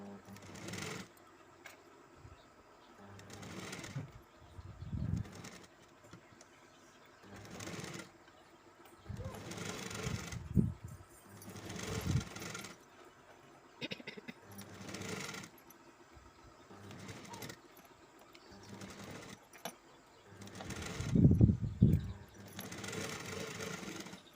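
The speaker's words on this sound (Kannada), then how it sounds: "ಫೋಲ್ಡ್ ಮಾಡಿ ಸ್ಟಿಚ್ ಮಾಡ್ಕೋಬೇಕು." A sewing machine stitches a folded collar neck in short repeated bursts with quiet gaps between, fairly soft and close, with no voices.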